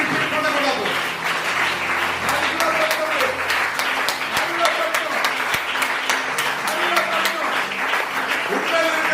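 A congregation claps hands during a Communion Sunday church service, a dense, continuous patter of many hands under a speaking voice and sustained tones, loud and close throughout.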